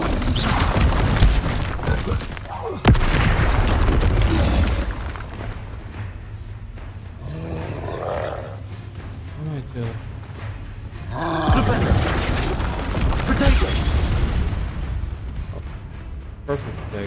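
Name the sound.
Bombarda spell explosions in the video game Hogwarts Legacy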